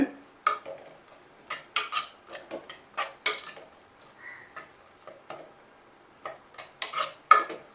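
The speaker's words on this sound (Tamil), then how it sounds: "இது எல்லாத்தையும் போட்டு நல்லா கலந்து விட்டுக்கோங்க" Masala for an Indian salmon fish curry stirred in a pot, a series of close, irregular metal scrapes and clinks from the spoon against the pan, with quiet gaps between strokes and no talk.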